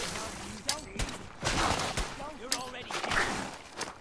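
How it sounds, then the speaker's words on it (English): Enemies fire repeated gunshots in Fallout 4's Far Harbor, sharp cracks scattered every half second or so, mixed with combat noise and a speaking voice. "They're shooting shit at me."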